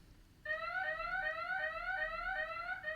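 A smoke or fire alarm goes off suddenly after a triggered fire alert and keeps up a steady, piercing electronic tone, loud and close, with no voices.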